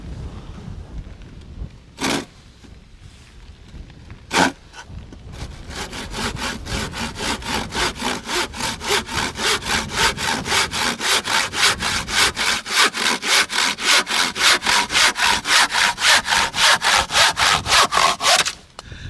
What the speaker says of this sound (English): Wet wood is hard to cut though.